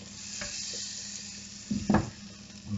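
Flour-dredged liver sizzles in a hot pan, a faint steady frying hiss with a couple of louder spatters and stirring bursts near the end, no talk.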